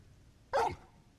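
Torgal, the dog in Final Fantasy 16, gives a single short, sharp bark, close and clear against a quiet background.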